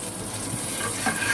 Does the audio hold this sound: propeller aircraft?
no